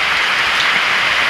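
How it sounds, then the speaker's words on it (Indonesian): Steady rain pouring outdoors near Banyumala Twin Waterfall in Buleleng, Bali, a dense, even hiss with no talk. "Belum sampai ke Banyuwala Waterfall sudah hujan."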